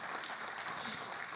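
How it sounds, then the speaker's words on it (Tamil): Audience applause at a golden jubilee award ceremony, a dense and steady wash of many clapping hands, heard from a distance, fairly faint and continuous. "நல்ல பலத்த ஒரு கரகோஷம் கொடுக்கணும்"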